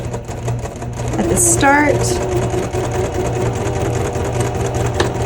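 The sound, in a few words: sewing machine back stitching a seam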